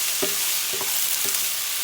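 Food sizzles in a pan seasoned with black pepper and salt as it begins cooking down, a steady loud frying hiss broken by a few short stirring scrapes, with no talking.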